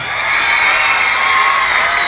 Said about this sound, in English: Let's give First Avenue a big round of applause.